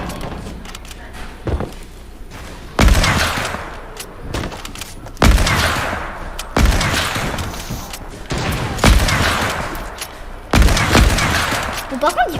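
Repeated loud bursts of gunfire in a shooter video game's sniper mode, about five sharp shots spaced a couple of seconds apart, each ringing out with a decaying tail, amid background game noise and faint voices.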